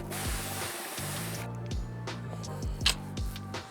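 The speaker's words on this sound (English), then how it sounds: "you can spray a little coat of DWR" A short hissing burst of aerosol DWR water-repellent spray onto a three-layer jacket, close by, with background music playing underneath.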